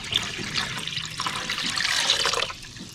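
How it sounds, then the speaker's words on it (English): Water trickles and splashes steadily from a chicken nipple waterer, the overflow running into a cup beneath it, a continuous close watery patter with no talking. "You can see the water comes out and the extra goes in the cup."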